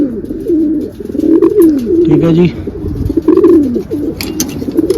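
Close pigeons cooing in several rolling phrases, with a brief spoken remark and faint chirps mixed in.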